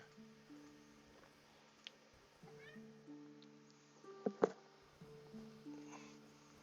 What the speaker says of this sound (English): I had a random encounter with my cat. It just jumped up on me.